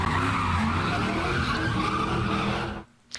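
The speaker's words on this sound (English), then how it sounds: "A large crowd watched as several cars drifted, did donuts and lit fireworks in the middle of intersections." Cars drifting and doing donuts in an intersection during a street takeover, loud continuous tire squeal and roaring engines close by, cutting off abruptly near the end before a brief faint noise.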